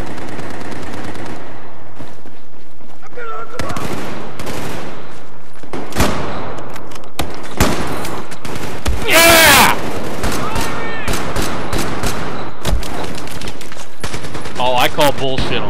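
Gunfire in the Battlefield 4 Gun Master mode cracks in bursts and single shots, loud and close, with automatic rattles and booms running throughout while someone talks over the fighting.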